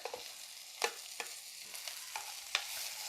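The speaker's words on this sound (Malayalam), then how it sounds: "ഇതെല്ലാം കൂടി ഒന്ന് വഴരട്ടെ നമ്മുടെ തക്കാളിയും പച്ചമുളകും കറിവേപ്പിലയും" Green chilli, tomato and curry leaves sauté in a pan under a soft, continuous sizzle, broken by several sharp clacks of stirring spread across the stretch.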